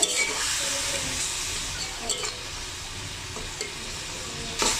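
Ground panch phoron spice mix stirred and fried in a pan for cabbage patties, a steady soft sizzle with occasional scraping stirs of the spoon, close and alone.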